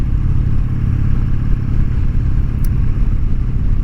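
A Harley-Davidson Sportster being ridden makes a loud, close, continuous low engine rumble mixed with wind roar, steady throughout with no clear shifts in revs.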